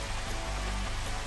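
Steady, dense hiss of rain falling in the Final Fantasy XV Platinum Demo, an even, unbroken wash of droplets heard alone at a constant level.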